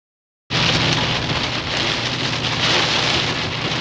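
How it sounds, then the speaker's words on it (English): Heavy rain pours down on a farm, a loud, steady broadband roar of falling water that starts abruptly and holds constant with no talking. "We got a downpour"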